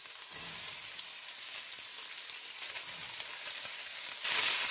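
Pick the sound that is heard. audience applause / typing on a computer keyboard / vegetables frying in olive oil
vegetables frying in olive oil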